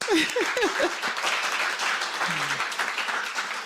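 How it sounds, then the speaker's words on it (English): A studio audience at a children's day talk show claps for themselves, a steady ripple of applause that runs throughout, with a brief voice heard at the start. "clap for yourselves"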